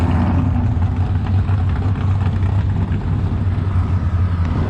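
Race car engines rumble steadily at Cecil County Dragway, a loud, continuous low drone of idling and revving that fills the whole stretch with no pauses.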